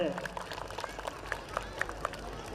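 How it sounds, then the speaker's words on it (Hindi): Applause for parents at a school annual day function, a steady wash of many hands clapping with a few sharper claps standing out, continuing for a few seconds. "सभी टीचर से निवेदन करता हूँ जोरदार ताली बजाकर इन अभिभावकों को धन्यवाद दें"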